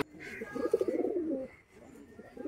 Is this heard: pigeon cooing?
yes